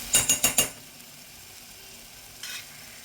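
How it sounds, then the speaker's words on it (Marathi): Spices for Maharashtrian masale bhat are stirred in a pan, with a quick run of four sharp spatula scrapes at the start, then a soft sizzle and one more scrape near the end. "आता हे आपल्याला पुन्हा एकदा छान असं परतून घ्यायचं आहे."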